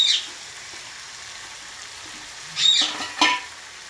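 Coriander leaves go into chicken frying in a pan, a soft, steady hiss broken by a couple of short stirring scrapes near the end.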